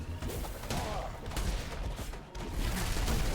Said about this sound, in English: that's another bomb